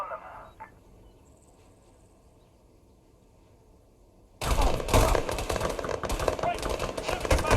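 Sudden burst of heavy gunfire in Arma 3 erupts partway through, dense and sustained with loud rattling shots after a quiet stretch with a brief voice at the start.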